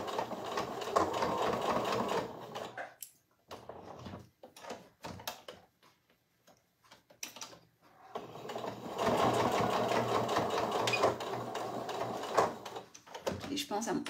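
Sewing machine stitching a temporary holding seam, running in steady close whirring bursts with a short stop-start pause in the middle, while a person talks intermittently.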